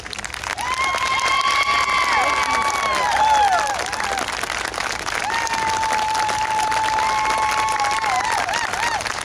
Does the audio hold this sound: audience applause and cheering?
yes